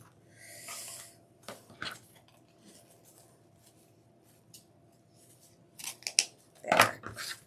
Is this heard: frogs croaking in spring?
no